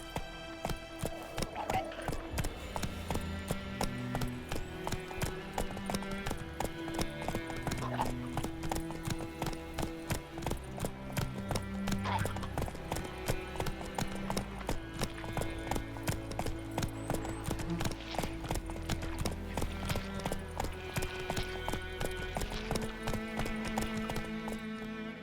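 Roach, the horse in The Witcher 3, gallops with a rapid, steady clip-clop of hooves throughout, backed by game music and an occasional whinny.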